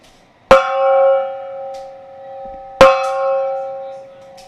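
A big gong is struck twice during a baseball game watch party after a two-run home run; each clear metallic hit rings out with a long humming decay, about two seconds apart.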